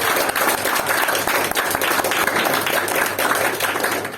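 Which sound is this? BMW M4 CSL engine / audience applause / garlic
audience applause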